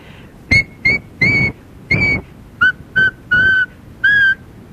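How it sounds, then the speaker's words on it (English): Tuneless human whistling in eight short, separate notes, some clipped and some held a little longer, close and clear against quiet. "it sounds like I'm just whistling a tuneless whistle"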